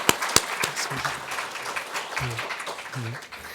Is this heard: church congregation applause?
yes